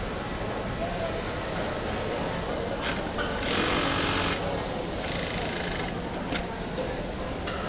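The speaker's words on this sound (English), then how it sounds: "So this guy's gonna add the double needle J stitch." An industrial sewing machine in a jeans factory runs a double needle J stitch on denim, a continuous noisy mechanical whir with brief louder bursts and clicks under steady factory background.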